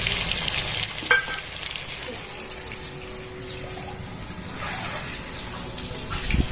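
Eggs and potatoes frying in oil with turmeric give a continuous, close crackling sizzle, with occasional soft scrapes and bumps from stirring throughout.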